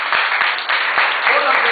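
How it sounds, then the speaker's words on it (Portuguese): Applause in a church during a Portuguese-language sermon, a brief dense patter of clapping from a congregation, loud and steady, with a few sharper claps standing out and voices faintly mixed in. "Dê um aplauso a ele."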